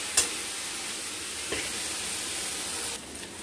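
Spice paste stir-fried in a pan, a steady bright sizzle with a couple of sharp scraping clicks from stirring, close and continuous with no talk.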